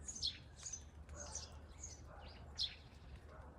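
Sparrows and a woodpecker call among peonies and a cherry tree in a garden, with scattered bright chirps and tweets coming in short bursts, moderately close, over quiet outdoor background.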